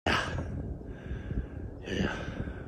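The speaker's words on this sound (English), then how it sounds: "Breathing heavily after a 15-mile bike ride, allegedly, on an e-bike is hilarious." Heavy, loud breathing after a 15-mile e-bike ride, with a sharp gasping intake at the start, continuous breathy panting, and another strong breath near the end.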